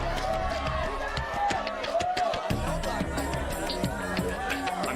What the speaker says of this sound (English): I'm hearing a lot of one TV show being chanted from the crowd